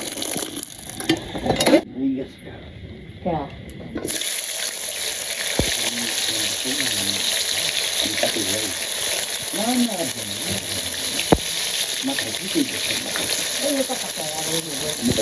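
Potatoes and bitter gourd fry and get stirred in a pan, giving a loud continuous sizzle after a short quieter gap. Voices talk intermittently over the frying.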